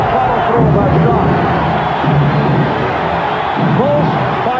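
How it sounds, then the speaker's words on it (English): Basketball arena crowd at the 1992 NBA Finals in Portland roars steadily and urges the Trail Blazers on, a dense ongoing din with a commentator's voice mixed in. "the crowd urging the Blazers on"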